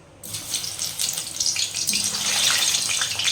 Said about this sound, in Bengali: এই যে তেল গরম হয়েছে এখন আলুগুলো ছেড়ে দেবো